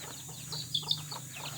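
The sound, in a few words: chickens clucking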